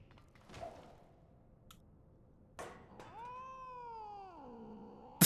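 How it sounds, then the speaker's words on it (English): A cat in the Final Fantasy XIV Heavensward game meows with one long, rising and then falling cry over a soft background, after a few short thumps and rustles. "The cat."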